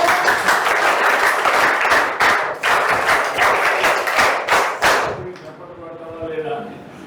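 A group claps in applause during a classroom-style session led by a politician acting as teacher, a loud, dense burst of clapping lasting about five seconds before speech takes over.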